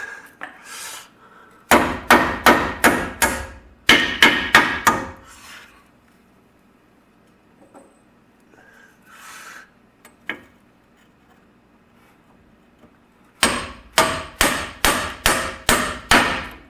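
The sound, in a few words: hammering bearing until it seats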